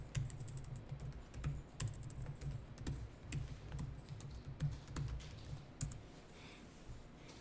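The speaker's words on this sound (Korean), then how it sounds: "적요에다가는 타자를 해주는 게 어떨까요?" Quiet, steady typing on a computer keyboard, with rapid clustered keystrokes and occasional sharper key clicks continuing throughout, as in an accounting practice class entering data.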